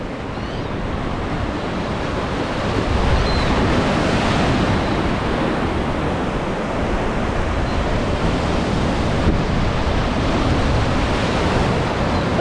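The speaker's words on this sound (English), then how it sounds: "I'll show you these waves coming in right where we're going to be fishing." Ocean waves and swell roll in on a shallow New Zealand shore, a loud continuous wash of surf with gusting wind buffeting the microphone and no voices.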